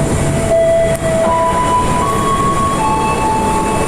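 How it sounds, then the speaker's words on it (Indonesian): An airport rail link train passes through track 3 of Tanah Abang station toward Manggarai, a loud, steady rumble of rolling wagons close by with faint tonal squeals and whines from the wheels or brakes running throughout. "Ya, ini kereta bandara ternyata dia lewat dari jalur 3 ini ya."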